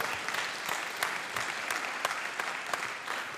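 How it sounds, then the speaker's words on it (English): A church congregation claps during a sermon, a dense, continuous patter of many hands at moderate distance with no talking over it. "You can clap at that point if you want to."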